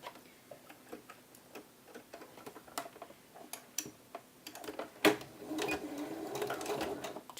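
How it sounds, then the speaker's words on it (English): Sewing machine stitching down the front placket of a blouse: sparse ticking clicks of the mechanism at first, then a short burst of running stitches toward the end, fairly quiet and close. "Using the 1/2 inch seam allowance, we'll now stitch our first front placket down."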